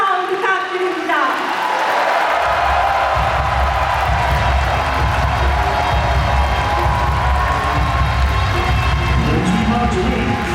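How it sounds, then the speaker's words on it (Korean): Crowd of party members at a national party convention in Cheongju cheers and applauds loudly, a dense sustained roar with chanting rising after a brief speech-like opening. "당원 여러분 큰 박수와 함성 부탁드립니다"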